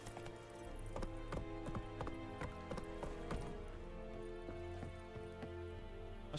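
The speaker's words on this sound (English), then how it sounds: "o cavalo muito próximo de perigo, ele entra em pânico. Aí ele foge, te largando." A horse in The Witcher 3 video game clip-clops away at a brisk gallop, with rhythmic hoofbeats, close and clear, and a brief whinny among the steps.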